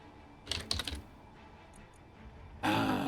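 A computer keyboard typed on during a space game stream: a short cluster of quick key clicks, then quiet, then a louder, denser rush of keystrokes near the mic, with no speech.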